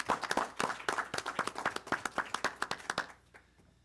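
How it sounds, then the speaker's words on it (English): A small audience at a city council meeting claps in a brisk, close burst of distinct individual handclaps that stops abruptly after about three seconds, leaving near silence. "Big round of applause again."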